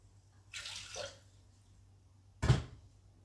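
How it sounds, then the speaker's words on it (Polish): Water poured into a Thermomix mixing bowl, a short splashing pour followed by a second brief splash, quiet and nearby. "i wlać wody."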